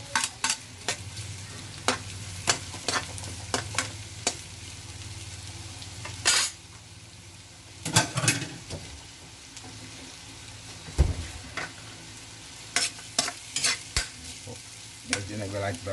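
Garlic and onion sauté in a pan, a steady sizzle and fry running throughout, broken by frequent sharp clinks and scrapes of a utensil stirring against the pan, with no talk.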